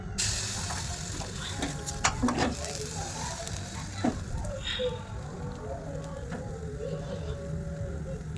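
Rice-flour patishapta batter poured into a hot oil-brushed wok gives a steady hissing sizzle throughout, with a few faint clicks and scrapes over it.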